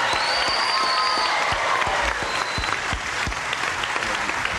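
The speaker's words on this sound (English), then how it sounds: "we'll all have a brisk round of applause for these two people over here" Studio audience at a 1984 game show applauds contestants, a dense steady round of clapping throughout with a faint tone in the background.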